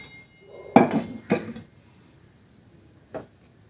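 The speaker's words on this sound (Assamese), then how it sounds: "গেছত মই এই প্ৰেছাৰ কুকাৰটো উঠাই দিছোঁ" A metal pressure cooker set down on a gas stove burner in a home kitchen, giving two close, fairly loud clanks in quick succession and a lighter knock a moment later, with no talking.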